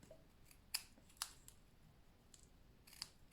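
A few sharp scissor snips cutting paper, three distinct cuts spaced irregularly, close and crisp against a quiet background.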